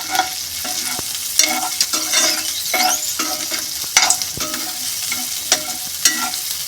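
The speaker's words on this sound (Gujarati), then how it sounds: "આવી રીતે બરાબર સાતરી કાઢવાના છે વટાણાને." Fresh green peas are sautéed and stirred in a pan: a soft continuous sizzle with repeated scraping and clacking strokes of a spoon, close and steady, with no voices.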